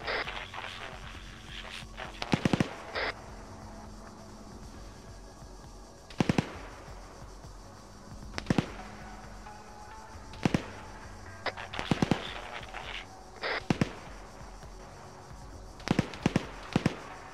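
Sharp gunshots ring out in ArmA 3, single and double cracks scattered irregularly every couple of seconds over a steady low ambient hum, with no talk.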